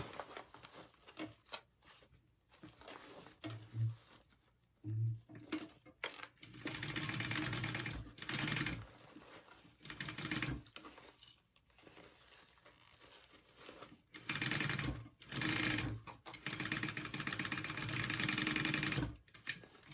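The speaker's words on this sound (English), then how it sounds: "I'm going to stitch that closed" A sewing machine stitches a tote bag closed in several bursts of rapid, even mechanical whirring, starting and stopping between pauses, close and fairly loud.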